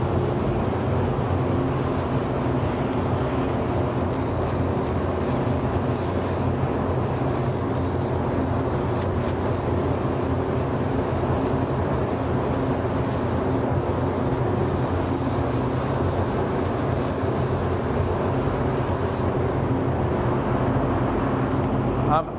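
Spray gun applying hot rod sparkle white paint to a push bike frame, a continuous hissing spray held loud and steady throughout, with a brief break near the end.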